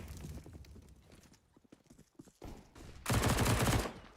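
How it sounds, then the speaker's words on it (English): Rapid pistol gunfire from Glocks in a CS:GO match at the IEM New York 2020 CIS tournament, with scattered shots and a loud dense burst near the end. "Pistols getting shredded, but mainly Glocks with the occasional D"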